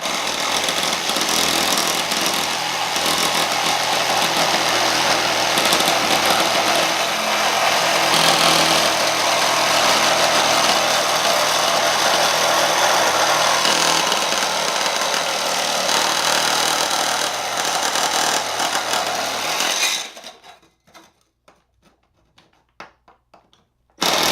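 Power tool cutting Ubbink vent pipe for a Rinnai tankless water heater: a loud, continuous grinding buzz that runs steadily for about twenty seconds, then cuts off abruptly, followed by a few faint handling knocks.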